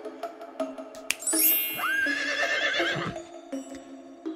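A horse in the video game V Rising gives a loud, close, rising whinny lasting a couple of seconds, with clip-clop footsteps and ambient game sounds around it.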